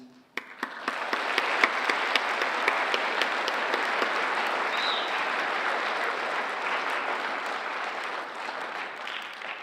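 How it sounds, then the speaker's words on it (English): Audience at a 2016 school Hall of Fame and NHS assembly applauds former inductees, a sustained, even round of clapping that swells quickly after a few sharp first claps and holds steady throughout. "If you can join with me in showing applause to these former inductees."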